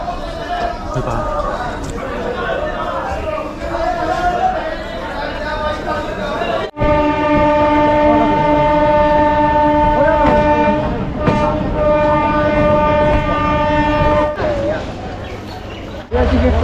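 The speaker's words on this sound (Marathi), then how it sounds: "तर ही लोकल आहे बनगावची" A Bangaon local commuter train from Sealdah rumbles along, with a steady whining hum rising midway, as people talk over the noise throughout.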